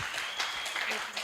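Audience applause at a women human rights defenders' conference, a steady wash of clapping hands throughout the short moment, with faint voices mixed in.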